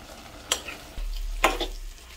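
Buttered garlic shrimp stirred in a pan with oyster sauce and butter: two sharp utensil scrapes over a low, steady sizzle, close and moderately loud, with no talk.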